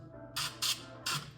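Three short hissing bursts of cooking spray greasing a baking pan, each about a quarter second, close by over a quiet background hum.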